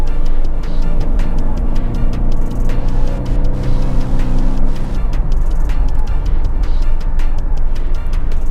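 A 2008 Mercedes-Benz E200 Kompressor W211 sedan accelerates hard, its supercharged four-cylinder engine droning loud and steady with a rising tone, heard from inside the cabin alongside road rumble.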